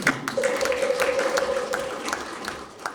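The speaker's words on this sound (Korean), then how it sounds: "큰 박수" Applause from the audience at a Korean Buddhist academic conference, moderate clapping spread across the room, somewhat distant, with a faint sustained tone running beneath it partway through.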